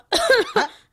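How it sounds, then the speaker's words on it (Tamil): A single close, harsh cough in two quick bursts, loud and raspy against silence. "என்ன அது இருமல் சத்தம்"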